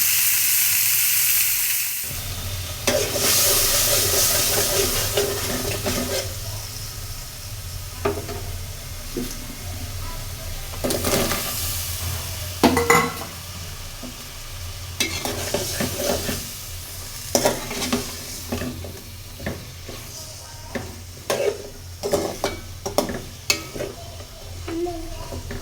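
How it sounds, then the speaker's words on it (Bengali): Sea poa fish frying in oil in a pan, a continuous hiss and sizzle punctuated by repeated scraping stirs and spatula taps, fairly close, with no talking. "মাছ ভাজিটা বসিয়ে দিলাম। মাছটা আগে ভাজি করে নেই।"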